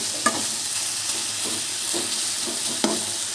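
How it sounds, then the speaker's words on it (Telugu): Amaranth leaves stir-fry in a pan with a continuous close sizzle, broken by several soft scraping knocks as they are stirred. No one speaks. "మంచిగా ఫ్రై చేసుకున్నాం"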